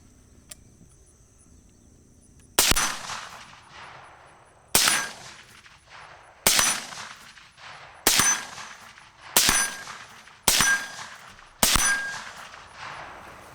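Air rifle pellets striking a steel target, seven sharp metallic impacts spaced a second or two apart, each ringing briefly before fading, with faint background hum between shots.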